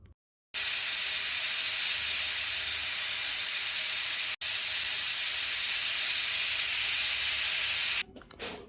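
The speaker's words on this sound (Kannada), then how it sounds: "ಕುಕ್ಕರ್ ಲಿಡ್ನ ಕ್ಲೋಸ್ ಮಾಡಿ 2 ವಿಜಿಲ್ ಕೂಗಿಸ್ಕೋಬೇಕು" Pressure cooker whistling loudly and steadily while mushroom pulao cooks, one long sustained hissing whistle with a brief break midway, ending abruptly.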